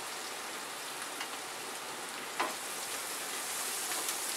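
Onions frying in a pan for a spicy Maharashtrian potato dish, a soft steady sizzle with a faint crackle and one brief louder stir partway through.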